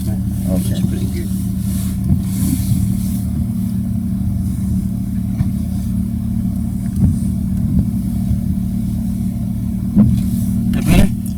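Car engine idling and pulling away in reverse during a driving lesson, a steady low hum with small revving swells, with people talking quietly in the car over it.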